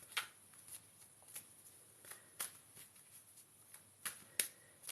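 Tarot cards are shuffled by hand in a series of soft, quick riffling flicks and snaps, close by and otherwise quiet.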